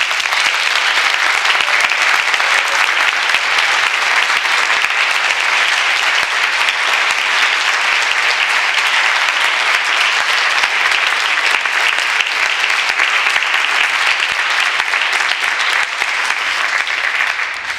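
Sustained, loud applause from a conference audience at an academic tenure-track career meeting, a dense, steady wash of many hands clapping for the full stretch with no talk over it, tapering only at the very end.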